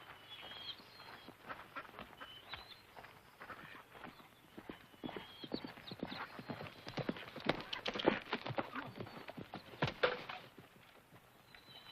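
Several horses of a posse riding off at a walk, steady overlapping hoof clip-clops on dirt, fairly faint and distant, with birds chirping in the background and no one speaking.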